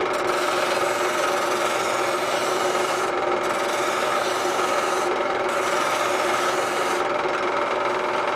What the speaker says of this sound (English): Drill press, sanding drum,